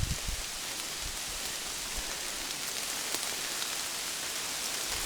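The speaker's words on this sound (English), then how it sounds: "all the rain's falling on me." Rain patters steadily in the Aulnay Forest, a soft even hiss of drops on leaves and ground with a few closer taps, faint and continuous, no voices.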